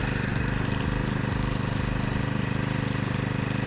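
A small four-stroke Wincell boat sprayer engine runs steadily at low revs, a continuous even drone with a rapid pulsing beat and no voices.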